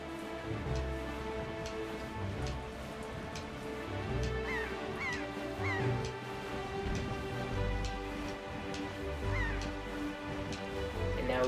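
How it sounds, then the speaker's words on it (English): Seagulls calling in The Legend of Zelda: The Wind Waker, a few short squawks standing out faintly over a steady busy game soundscape. "And now we got seagulls."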